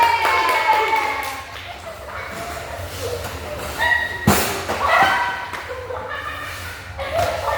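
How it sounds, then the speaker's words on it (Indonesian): A university counseling class full of people clapping after an icebreaker, mixed with lively chatter and laughter, fairly loud and steady throughout. "Oke, beri tepuk tangan."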